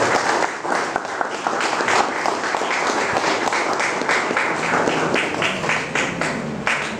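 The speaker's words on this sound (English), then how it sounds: "Let's give them a big round of applause." A school graduation crowd at Arthur's Town High School applauds the class of 2015, with dense, steady clapping that holds at an even, fairly loud level throughout and comes with no talking over it.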